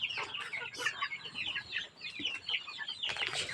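Chickens clucking and chattering in a busy, overlapping jumble, faint and somewhat distant, with one sharper call near the end.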